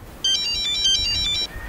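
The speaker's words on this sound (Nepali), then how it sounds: "अर्को चाहिँ फोन आयो" A mobile phone ringtone plays a short, bright melodic electronic pattern for just over a second, close and clear over a low background rumble.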